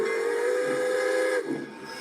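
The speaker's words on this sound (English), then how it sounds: "this thing titled Train Whistle 13" A recorded steam train whistle blows one long, steady, loud tone over a hiss of steam, then cuts off and fades into a softer hiss.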